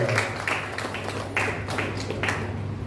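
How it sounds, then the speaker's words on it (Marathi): An audience claps for a speaker at a Chaitra Purnima and Samrat Ashoka Jayanti gathering, steady applause with a few louder swells over a low constant hum. "त्यांच्यासाठी टाळ्या होत्या."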